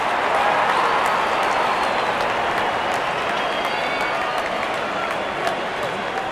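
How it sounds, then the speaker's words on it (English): Simulated stadium crowd applauding in a cricket video game on an Android phone: a steady, roaring wash of clapping and cheering that holds level for the whole stretch, with a voice faintly underneath. "Wonderful 50 and the crowd applauds."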